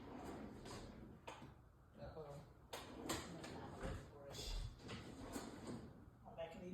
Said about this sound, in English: because I move my drawers around